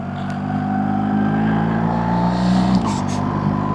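A motorcycle's boxer engine runs steadily while riding, a close, continuous low drone with a brief rise in revs late on and a small dip after it.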